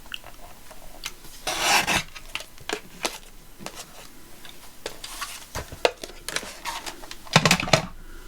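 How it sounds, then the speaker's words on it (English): Paper being trimmed at the top edge of a mini notebook folio page for a collage craft project, giving rasping, scratchy cutting strokes and small taps in irregular bursts, close and fairly clear with no talking. "Just need to trim a titchy bit off the top there, I think."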